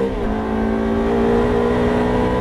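Ferrari F430 engine at full throttle on a racetrack, a loud sustained high-pitched roar with steady harmonic whine heard close from inside the car, no voices.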